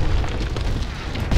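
A Panzerschreck rocket exploding in Call of Duty WW2, a loud, close, rumbling blast that fills the whole moment with heavy low boom and debris, swelling again at the end, without talk.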